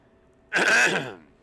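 A single short, harsh cough or throat clear bursts out close by, then fades quickly into quiet.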